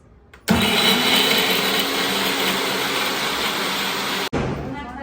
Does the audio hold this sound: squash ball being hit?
no